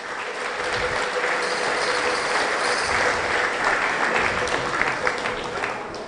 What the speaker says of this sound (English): I think they deserve a nice round of applause